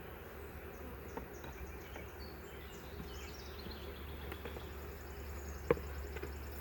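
Honey bees crawling over frames of drawn comb in a hive started from a nuc give off a steady, soft, close buzzing hum, with a couple of faint knocks and one sharp tap near the end. No one speaks.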